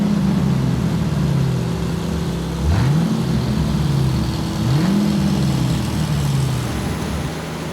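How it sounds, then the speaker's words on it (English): A garbage truck engine drones loudly and steadily, with two rising pitch sweeps as it revs in gear shifts, no talking over it. "Garbage truck."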